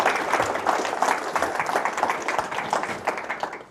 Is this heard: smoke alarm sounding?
no